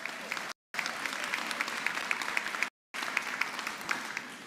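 An audience at a science week closing ceremony claps in a dense, steady patter of many hands, fairly distant and moderate in level, with the sound briefly cut out twice.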